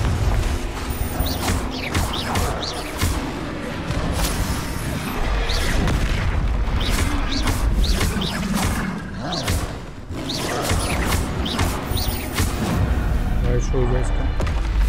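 Confringo fire spell blasts in Hogwarts Legacy, repeated booming explosions with crackling impacts amid dense combat noise, while a voice talks over the fight.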